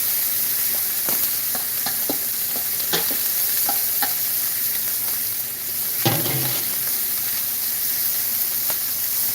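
Leftover marinade splashes onto pompano on a hot Blackstone griddle, raising a steady loud sizzle and hiss with scattered crackles and one sharper burst of spatter midway, no talking.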